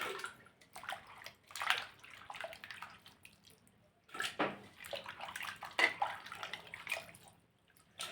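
Water splashes and pours over salted sliced potato chips in two bursts separated by a short pause, with a steady rushing flow and light sloshing, fairly close.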